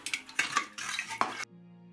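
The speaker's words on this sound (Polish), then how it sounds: "Wrzucamy sól i dobrze musimy to rozpuścić." Salt being stirred into a brine for curing meat, a spoon scraping and clinking against the container in quick close strokes for about a second and a half before the sound stops abruptly, with no talk.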